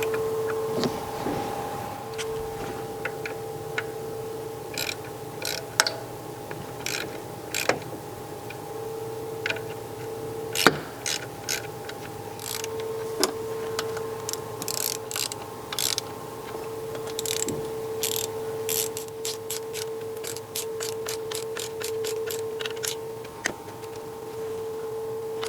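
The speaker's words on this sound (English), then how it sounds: "I'm using a small ratchet, so I can't place a lot of force on tightening the nuts down" A small hand ratchet tightens the camshaft nuts on a BMW X3 3.0L engine. It gives irregular, close ticking clicks over roughly 25 seconds, with quiet pauses between short bursts and no talking.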